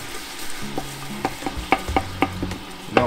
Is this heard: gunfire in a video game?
no